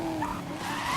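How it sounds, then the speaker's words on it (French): A car drifts with its tires squealing and skidding in a brief, continuous screech under the engine note, close and moderately loud. "Les petits drifts comme ça"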